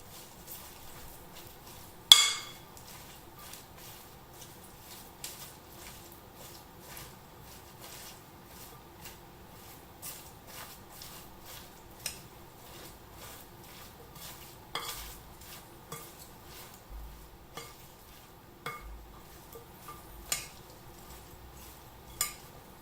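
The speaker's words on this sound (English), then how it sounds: "And you stir it all up" A broccoli nori salad seasoned with garlic powder being stirred in a too-small bowl, with quiet, steady scraping and soft clinks, a few sharper taps standing out, close and gentle.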